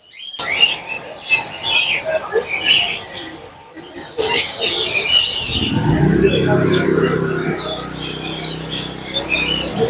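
Chirping birds in a pet bird shop, among them lovebirds and finches, twitter in bright overlapping bursts throughout, with a louder rumbling stretch of handling or movement noise midway.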